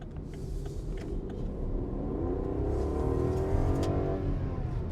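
A 2024 Rolls-Royce Ghost's 6.75-liter twin-turbo V12 accelerates, a smooth low rumble rising steadily in pitch and swelling slightly before settling, heard from inside the car with no talking.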